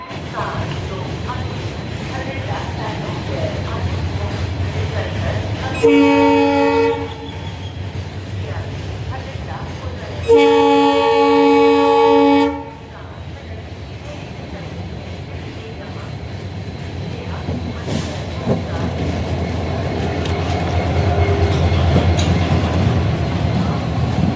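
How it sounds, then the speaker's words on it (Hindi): An Indian Railway train arrives and passes, a steady low rumble throughout, broken twice by loud, sustained horn blasts, with people talking faintly in the background. "वो आ गई हमारी ट्रेन, एंटर कर चुकी है।"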